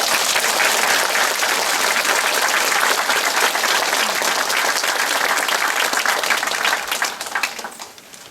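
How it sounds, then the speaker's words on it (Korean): A church congregation at a Korean Sunday worship service applauds its standing elders: dense, steady clapping fills the room for about seven seconds before thinning and fading out at the end. "박수하겠습니다."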